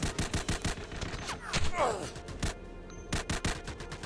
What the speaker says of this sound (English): Suppressive fire. Suppress.